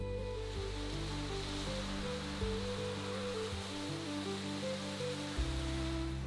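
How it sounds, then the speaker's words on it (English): Steady rain falls on pastures in Ireland, a constant soft hiss of drops with a low rumble underneath, even and unbroken throughout. "The rain falls on the pastures, sinks deep into the soil"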